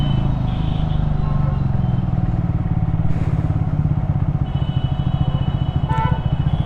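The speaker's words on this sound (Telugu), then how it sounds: "కాస్త ట్రాఫిక్ ఉంటుంది" Town road traffic in Amalapuram, dominated by a close, steadily throbbing motorcycle engine rumble with other vehicles passing and occasional clatter, continuous and fairly loud.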